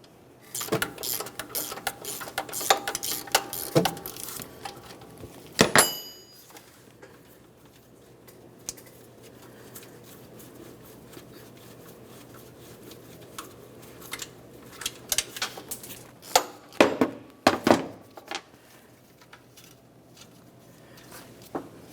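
Wrenches click and ratchet while loosening 14mm bolts on the thermostat housing of a 1994-2002 Dodge Ram 2500. The metallic clicks come in short clusters near the start and again near the end, with quiet stretches between.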